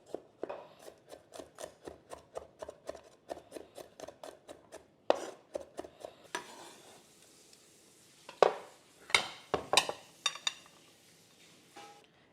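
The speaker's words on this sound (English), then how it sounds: "6 cloves of garlic that you're gonna just chop up." A knife chops six garlic cloves on a cutting board in a rapid, steady run of close taps, then pauses before scattered louder knocks and scraping as the pieces are gathered, no talk.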